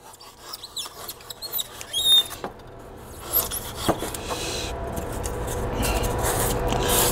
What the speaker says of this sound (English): I just kind of rub off the little pieces that are kind of hanging on there